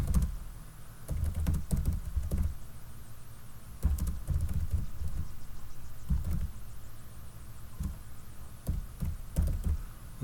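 Keys clatter on a computer keyboard in irregular bursts of quick taps with short pauses between, close and fairly loud, and no talking.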